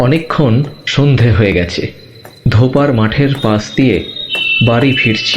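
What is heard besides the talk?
crickets chirping at night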